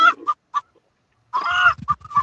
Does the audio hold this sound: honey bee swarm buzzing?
no